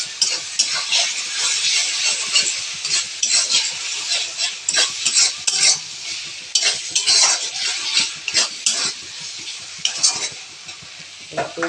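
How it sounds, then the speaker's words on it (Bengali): Yogurt and masala are stirred and fried in a pan for a home-style chicken kurma. A spoon scrapes and clinks against the metal pan in repeated strokes over a continuous close sizzle. "টক দইটা কষিয়ে নিচ্ছি"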